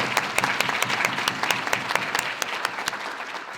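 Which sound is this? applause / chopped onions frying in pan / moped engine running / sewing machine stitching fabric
applause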